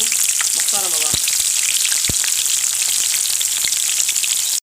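Potatoes sizzle and crackle in hot oil, a loud, steady frying hiss with scattered pops and a brief stirring scrape, close to the pan.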